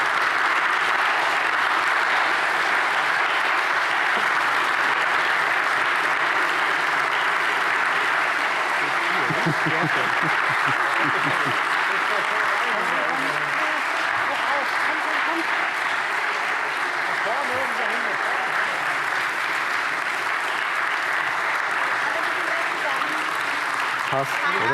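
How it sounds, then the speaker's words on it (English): An audience at a conference applauds the organizing team with long, sustained clapping that stays full and even for well over twenty seconds, and voices murmur underneath as it goes on. "Please give them another warm applause."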